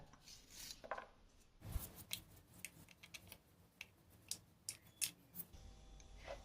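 A knife slices ivy gourd into thin lengthwise strips on a board, giving a string of soft, close, irregular cuts and taps with brief gaps and no talking.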